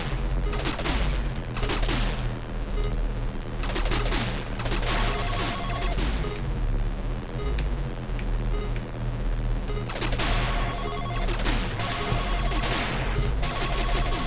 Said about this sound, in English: Oh, they're shooting hearts.